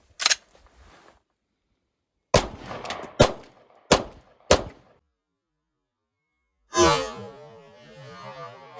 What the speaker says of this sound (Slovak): Strieľať budeme strelivo STV, 8-gramové strely.